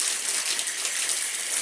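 Water gushes steadily onto old barn floor bedding of wood chunks and debris, a close, continuous hiss of splashing with no voices.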